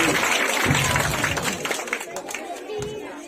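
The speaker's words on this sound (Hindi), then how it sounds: "इसके लिए तालियों से स्वागत कीजिए।" Quiz competition audience applauding a correct answer, a brief burst of dense clapping mixed with crowd chatter that gradually thins out.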